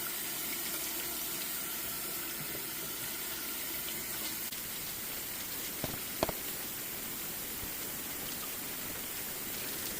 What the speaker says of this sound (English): I'm going to fill up our canner to the line.